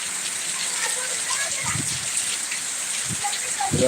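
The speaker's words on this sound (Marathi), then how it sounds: "पावसाने जोरदार सुरुवात केली" Steady heavy rain hisses across the whole stretch, broad and close, with a few low thumps and splashes from drops or movement near the listener at a village house building site.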